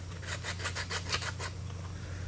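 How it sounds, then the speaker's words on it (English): Repeated rhythmic rasping strokes of sandpaper on wood, about eight quick back-and-forth passes, fairly close, over a steady low hum. "now you're gonna want to get up some sandpaper and sand by hand"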